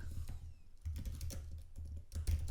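Quick, close clicking keystrokes on a computer keyboard, typed in short rapid bursts with brief pauses between them.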